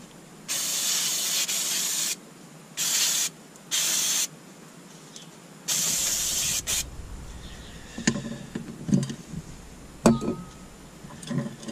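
Aerosol spray blasted onto brake parts during a front brake pad change on a Rover 75: four loud hissing bursts of varying length, separated by pauses, followed by faint clicks and handling noises.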